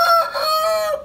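A pet rooster crows once, close and loud, a single bright drawn-out cock-a-doodle-doo lasting about a second that rises, holds and cuts off cleanly, with nothing else audible.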